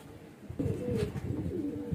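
Young Kasni pigeon chick cooing softly, a low throaty warble that starts abruptly and carries on in short repeated pulses, close and fairly quiet.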